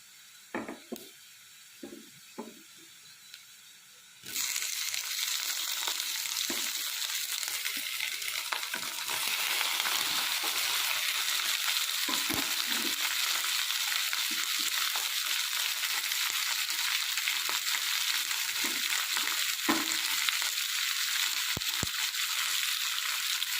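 Ivy gourd pieces tossed into a pan of fried onions, a faint crackle before a loud, steady hiss that swells suddenly and carries on with scattered clicks from stirring, no talk.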